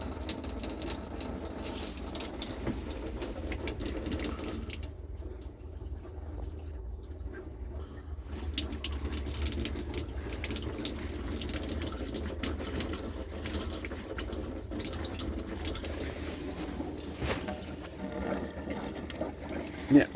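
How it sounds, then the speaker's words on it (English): Continuous trickling and gurgling of water draining through the pipes of a Trekker caravan's water system, with a steady low mechanical hum and occasional clicks. "So the water's almost drained."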